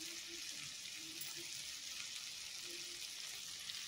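Curry leaves sizzle in a pan of sautéed tomato masala for chickpea sundal, giving a steady, soft, even hiss throughout with no pause or break.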